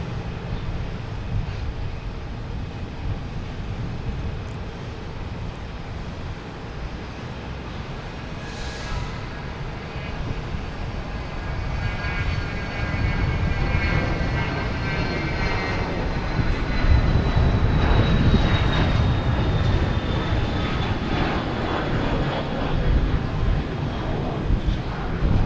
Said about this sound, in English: We have a JetBlue coming in from Orlando.